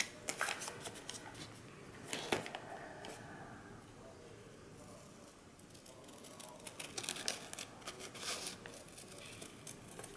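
A paper envelope is folded in half with a light papery shuffling and crinkling, soft and close, with scattered crisp rustles rising toward the end.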